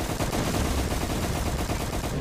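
Dense, sustained automatic gunfire from a Roblox shooter game, loud and continuous for a couple of seconds with no talk over it.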